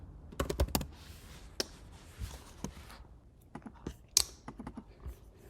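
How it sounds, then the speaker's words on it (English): Keys on a computer keyboard tapped in short, irregular bursts of crisp clicks close by, with a few louder keystrokes and no voices. "I'm going to type the headline of our assignment"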